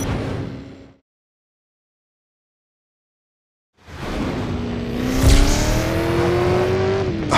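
Powerful car engine in Driver: San Francisco, floored and revving: a brief engine note cuts off, then after a silent gap the motor roars back loudly and climbs in pitch while accelerating.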